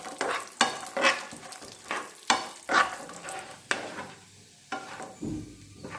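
Raisins frying in a pan while cooking a sweet potato payasa, with repeated bursts of spoon stirring and scraping over a soft sizzle, close and moderately loud, with no voices.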